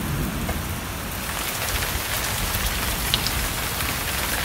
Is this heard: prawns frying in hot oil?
no